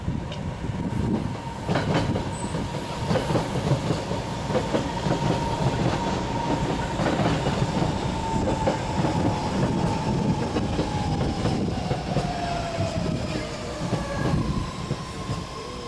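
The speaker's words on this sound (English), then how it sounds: "That one's an 8-car train, not a 6-car one." An 8-car BART commuter train rolls into a station loudly with a steady rumble and rhythmic clatter of wheels on track, a thin wheel squeal drawing out as it slows.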